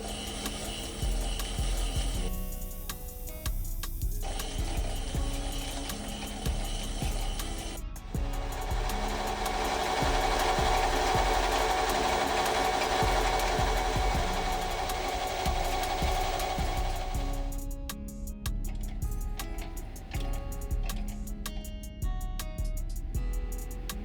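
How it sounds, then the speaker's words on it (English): A Sherline lathe at minimum speed turns a brass watchmaker's faceplate, producing a continuous grinding, rubbing cut noise that swells loudest through the middle and eases off near the end, close and steady with no talk. "I'm running the lathe at its minimum speed and aiming for as continuous a ribbon of brass as I can generate."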